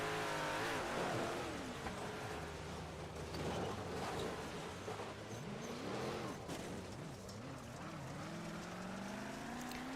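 A 358 dirt race car in iRacing, its engine revving and accelerating in rising and falling sweeps, moderately loud and continuous with no talk.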